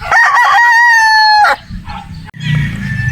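A Quadro Boston Roundhead brood stag rooster lets out one loud, close crow lasting about a second and a half, followed by quieter rustling and low handling noise.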